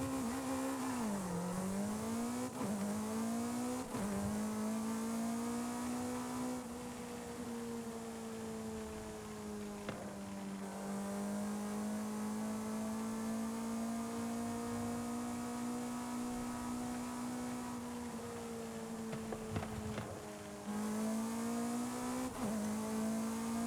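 A street-legal F1-style racer in Forza Horizon 5 holds a loud, steady high-pitched engine whine, its pitch dipping and climbing through gear shifts and throttle changes, with no talking.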